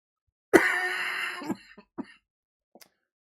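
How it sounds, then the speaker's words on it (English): One harsh, drawn-out cough up close, followed by a few shorter, quieter coughs and throat-clearing sounds, then silence. "There's all that coughing."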